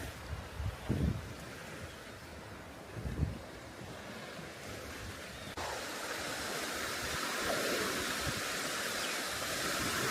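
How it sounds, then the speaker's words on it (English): Surf washing in steadily on Koh Samet, Thailand, with wind buffeting the microphone; the roar grows fuller and louder in the second half, with a few low gusty thumps early on. "Sound of waves, something amazing about it"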